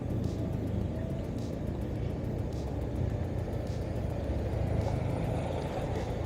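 Road traffic stuck at a standstill near the MRT Line 7 construction in Caloocan, on the way to Tala, makes a faint, steady low engine rumble with no voices.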